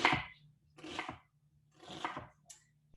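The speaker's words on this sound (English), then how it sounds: "So I'm going to start off with my onions right here. So I'm going to chop them up." Three slow, distinct knife chops through an onion onto a cutting board, close up, each a crisp crunch separated by quiet, with a low hum behind.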